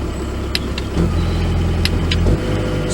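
A Dieci access platform's engine runs steadily with a low, even drone, its pitch shifting slightly partway through, while a few faint clicks sound nearby.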